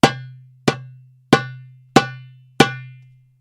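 Five sharp darbuka drum strokes struck near the drum's center with one, two and then three finger phalanges, evenly spaced, each a bright ringing hit over a sustained low tone, played alone with no talking.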